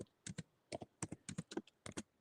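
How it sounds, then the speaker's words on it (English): Quick, light clicks of typing on a computer keyboard, close and quiet, coming in short irregular bursts with brief pauses between them. "Can you hear me typing? Probably can."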